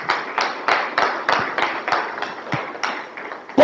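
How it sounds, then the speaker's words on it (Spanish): A church congregation at a men's congress applauds the Lord, an uneven round of claps with a rhythmic, pulsing feel, fairly loud and steady across the room, without speech over it. "Dele fuerte el aplauso al Señor."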